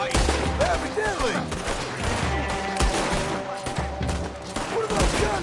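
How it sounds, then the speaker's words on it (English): Gunfire in the video game Red Dead Redemption 2, a rapid fusillade of sharp shots and cracks in irregular bursts throughout, loud and close, with mixed game sounds underneath. "What are those guns they have?"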